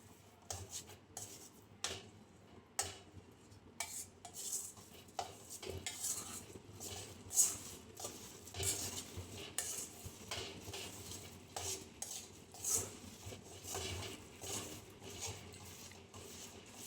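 A utensil stirs a thick coconut sweet mixture (topra pak) in a pan, with steady scraping and clinking strokes at a quiet level, no voices.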